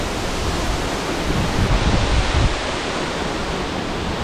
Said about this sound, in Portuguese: Cara, ela é linda essa cachoeira.